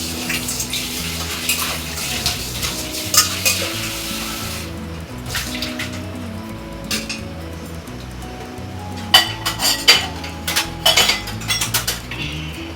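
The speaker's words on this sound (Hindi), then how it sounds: "तो चलिए ये बर्तन भी अपने हम धो के रख लेते हैं।" Pots, pans and cutlery clink and clatter steadily while dishes are washed in a home kitchen, with running water and sharper clanks bunching up toward the end, all fairly close and without talk.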